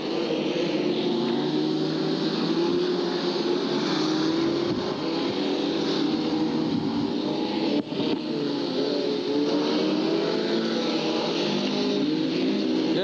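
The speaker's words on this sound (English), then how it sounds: "Got a few cars scattered about now on the back straight." F2 stock cars racing on the back straight of an oval track at Hartlepool, a continuous droning engine roar from cars spread around the circuit, heard at a distance with a steady, unbroken level.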